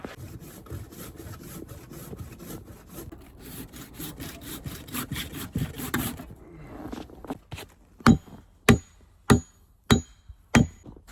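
A hand saw cuts a notch into a log at a bushcraft shelter build, rasping in steady back-and-forth strokes, then a series of sharp, evenly spaced knocks follows as the wood is struck.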